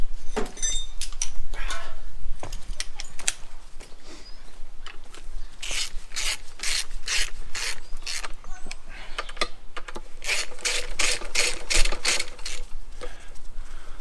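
A ratchet turns a 17mm socket during transmission and 13B rotary engine fitment work on a Mazda RX5 project car, giving repeated quick bursts of clicking with short pauses between them, close and moderately loud.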